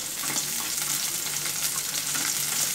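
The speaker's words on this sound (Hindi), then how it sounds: "ये मैंने जो अनियन डाला है, मैं ये अनियन इसके अंदर थोड़ा सौते कर लूँगी।" Chopped onion sautés in a pan for a non-fried honey chilli potato snack, giving a steady close sizzle and crackle with faint stirring scrapes and no talking.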